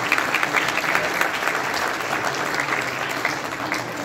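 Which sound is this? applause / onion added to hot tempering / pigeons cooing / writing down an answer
applause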